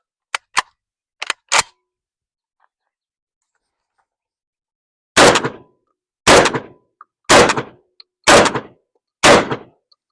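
A Tokarev TAR12 shotgun firing Federal Top Gun 8 shot shells outdoors: two light clicks and a short rattle of the action, a pause, then five loud, evenly spaced blasts about a second apart, each with a brief fading tail.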